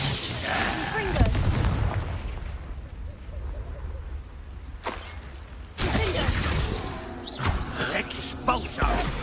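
Spell explosions in the wizarding video game Hogwarts Legacy sound as several loud booming blasts with crackling debris. A voice speaks the spell names between the bursts.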